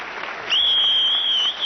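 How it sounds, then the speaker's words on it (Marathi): Loud burst of audience applause in a Marathi television comedy show studio, short and dense, with a sustained high electronic tone sounding over the clapping. "जोरदार टाळ्या"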